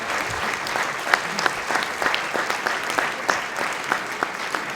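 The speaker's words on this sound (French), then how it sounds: "qu'on vous applaudisse vraiment tous ensemble" A hall audience at a municipal New Year ceremony applauds young athletes, a sustained even wash of clapping with sharper individual claps standing out close by.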